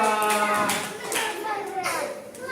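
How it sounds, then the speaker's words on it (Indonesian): Children in a third-grade classroom clap for a group. Brisk, close claps mix with children's voices and chatter throughout the short burst. "Tepuk tangan buat kelompok 2."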